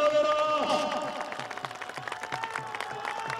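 A crowd at a kabaddi match in Lahore claps along in a steady rhythmic beat as a male announcer's amplified voice carries over it, with the clapping gaining strength as the voice fades.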